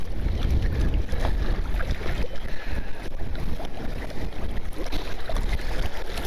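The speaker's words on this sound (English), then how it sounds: "I'm sure you can hear the wind wisping past the microphone." Wind gusts buffeting a microphone outdoors on a winter fishing trip near water, a loud continuous low rumble with uneven surges and faint splashy texture throughout.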